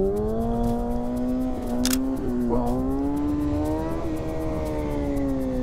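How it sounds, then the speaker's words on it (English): A motorcycle engine holds a steady, strained drone while the rider attempts a wheelie, the pitch wavering slightly up and down with a few small dips, loud and close throughout with no talking. "I'm doing some trash wheelies here, my friends."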